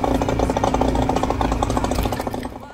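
A car engine running rich, burning far too much fuel with much of it leaving the exhaust unburnt, gives a rough, steady, pulsing drone close by that fades slightly at the end.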